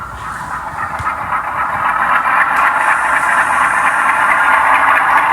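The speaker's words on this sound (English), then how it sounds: "Now the locomotive 906 is reversing, shunting into, changing the direction now into the siding." Railway locomotive 906 reversing and shunting into a siding to couple with coal wagons, a loud continuous metallic wheel squeal over low engine rumble, building slightly and sustained throughout.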